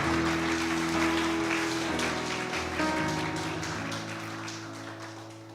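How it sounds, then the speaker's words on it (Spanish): Congregation in a church service applauding for the Lord, a steady wash of clapping with sustained music tones underneath that slowly fades over several seconds. "Dale un fuerte aplauso al Señor."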